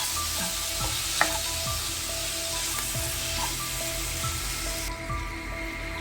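Squid roast (koonthal varattiyathu) fries in a pan, a constant sizzle with the spatula stirring and scraping through it in irregular knocks.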